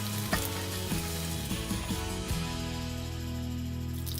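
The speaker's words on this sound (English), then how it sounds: "Now salt, pepper, and minced meat is landing in my favorite casserole." Minced pork fries in a casserole pan with salt and pepper, a steady close sizzle with a few clinks and scrapes of stirring and no voices.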